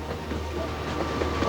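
A long coal train hauled through the central Queensland coalfields rumbles steadily nearby, heavy wagons producing a continuous dense roar with faint clickety-clack and a hint of engine drone, no voices.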